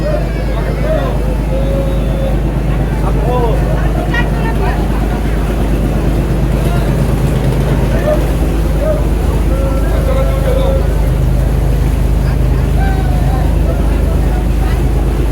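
A Noakhali trawler on a river runs with a loud, steady low engine drone that holds throughout, while people talk nearby over the rumble.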